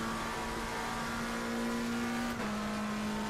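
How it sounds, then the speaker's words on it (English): A Ferrari race car in the racing game Assetto Corsa Competizione holds a steady, droning engine note as it accelerates, with a brief shift in pitch partway through like a gear change, and no talk over it. "Acceleration of that damn Ferrari"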